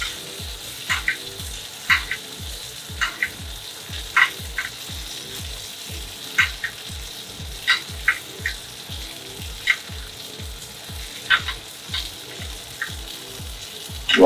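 A steak sizzles steadily in a stovetop pan while being basted, with a low rhythmic ticking beneath the frying and occasional sharp spattering pops; no talking.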